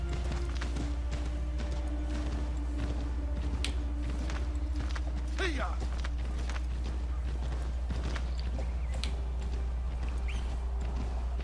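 Horse hooves walking in the video game Assassin's Creed 3, a steady clip-clop rhythm of hoofbeats over a low constant rumble, with an occasional snort.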